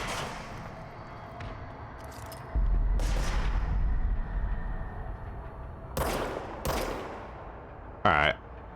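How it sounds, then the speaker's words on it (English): Enemy gunfire in the video game Control: several sharp broadband bursts stand out over a dense, steady game background, with one heavy low thump near the start and short cracks later on. "I didn't know these guys had guns too."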